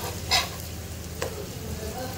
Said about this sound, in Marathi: वांग्याचे काप शिजत आहेत आपले.